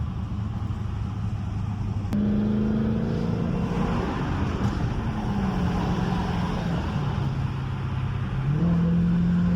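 A car with its muffler deleted drives along, its exhaust a loud, steady droning rumble whose pitch steps up and shifts through the run, heard from inside the cabin.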